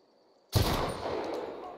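Gunfire in The Outer Worlds during a fight with bandits in a tent camp, a sharp loud shot bursting in after near silence and trailing into a sustained noisy wash.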